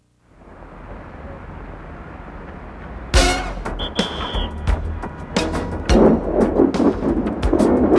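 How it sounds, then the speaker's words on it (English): A sampled clip: steady rain hiss gives way to a sudden close thunderclap, then crackling, rumbling thunder over continuing rainfall. "a sample of a car screech, thunder, and rain, all occurring at the same time"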